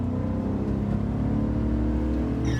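A 2011 Cadillac Escalade EXT engine drones steadily while driving, a low constant hum and rumble heard from inside the cabin with no speech.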